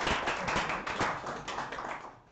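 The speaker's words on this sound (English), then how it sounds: "give them a clap." An audience at a game developers' meetup applauds, a dense, steady wash of many hands clapping close by that continues for a couple of seconds before thinning out.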